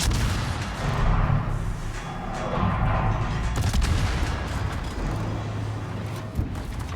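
The ship Svea's naval guns firing in a warship battle game, heavy booming salvos over a continuous engine and sea rumble, loud and close, with no voices.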